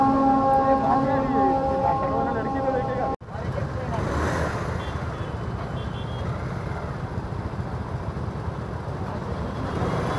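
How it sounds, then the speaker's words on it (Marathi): Indian Railways train at a railway crossing, beginning with a loud tonal horn, then a sudden cut into a steady rushing rumble of the train passing close by. "इकडं ट्रेनचा आवाज आल्यान"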